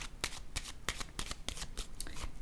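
Tarot cards shuffled and drawn during a French card reading, a rapid run of crisp, close riffling snaps and slides repeating steadily with no speech.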